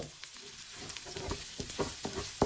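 Butter sizzles and fries in a hot pan, with a steady crackling hiss and a few louder spatters and stirring scrapes, heard close and alone.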